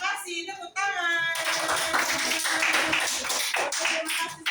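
A classroom of students bursts into loud, sustained applause right after a teacher speaks briefly, the clapping dense and close.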